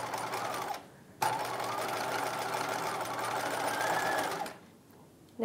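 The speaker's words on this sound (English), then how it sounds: "Now I'm sewing" A domestic sewing machine runs steadily, stitching the lining of a 1950s halter dress, with a brief pause near the start and another at the end; the motor hum and needle chatter stay close and fairly even.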